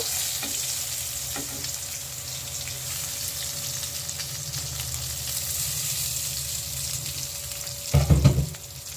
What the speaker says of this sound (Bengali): এবার বেগুন ভেজে উঠিয়ে রাখা হবে।